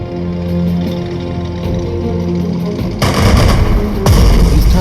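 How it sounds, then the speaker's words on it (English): Artillery bombardment and gunfire in the WWII strategy game Strategic Mind Blitzkrieg, with a rumbling battle ambience and a loud, sharp blast at about three seconds, then another heavy impact near the end. "the artillery to make a preliminary bombardment of the enemy positions"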